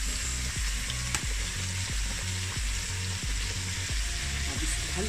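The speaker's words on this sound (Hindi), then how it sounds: "अब इसको हल्का सा फ्राई कर दें।" Chili sauce and soy sauce fry in a pan with a steady, close sizzle, punctuated by regular scraping stirs of a utensil.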